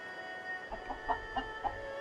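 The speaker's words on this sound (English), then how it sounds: "I think this chicken's about to lay an egg." A chicken in the Tales of Xillia video game clucks in a short run of soft, evenly spaced calls. The clucks sit over a steady hum of game ambience.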